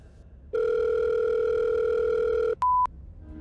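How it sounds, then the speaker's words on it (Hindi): A telephone tone sounds for a call: one long, steady electronic hum lasting about two seconds, then a shorter, higher beep, clean and close against a quiet background. "उसने रीत को फोन लगाया।"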